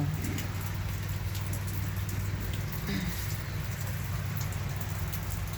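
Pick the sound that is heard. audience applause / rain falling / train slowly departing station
rain falling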